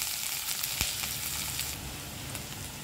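Chopped onions fry in hot mustard oil with a few cumin seeds in a wok, making a continuous, even, close sizzle with faint stirring scrapes and no talking.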